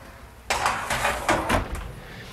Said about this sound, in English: We're able to put these in the oven.